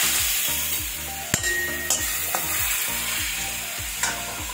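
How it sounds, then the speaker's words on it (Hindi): Garlic and ginger fry in hot oil for vegetable fried rice, a loud close sizzle with rhythmic scraping stirs and a few sharp spatula knocks against the pan, with no speech. "इसको थोड़ा सा भून लेंगे और साथ ही हम इसमें डाल देंगे अदरक"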